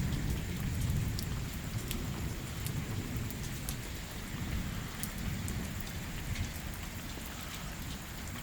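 Strong pre-monsoon rain and storm in the Pothwar region, a steady loud roar of heavy rain pelting surfaces with scattered drops and low gusting rumble throughout, no voices.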